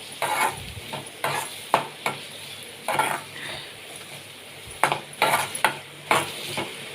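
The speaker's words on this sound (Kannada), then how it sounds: "ಚೆನ್ನಾಗಿ ಫ್ರೈ ಆಗಿದೆ ಇವಾಗ ಈರುಳ್ಳಿ." Onions frying in a pan while being stirred, with a steady sizzle broken by repeated scraping and clinking strokes of a utensil against the pan, close and moderately loud, no talking.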